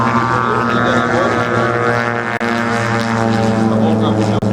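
A 17-foot radio-controlled model plane's engine runs steadily and loudly with a strong harmonic drone, holding a constant pitch apart from two brief dropouts.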